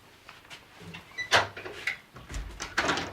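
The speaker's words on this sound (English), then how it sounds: "Close the door." A door being closed in an office scene from a 1991 TV drama: a few knocks and clunks of handling, then a heavier thud and rattle as it shuts, with no speech.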